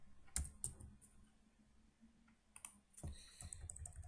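Typing on a computer keyboard in a quiet room, a few scattered key clicks in short bursts near the start and again toward the end, faint and close, with no talking.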